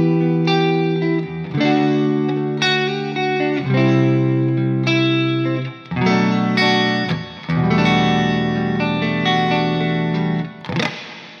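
A plate reverb effect, from a large vibrating metal plate, is demonstrated on a distorted, chorused instrumental. Bright, smooth chords sustain in several phrases with short breaks between them, and the wash of reverb trails off after each phrase.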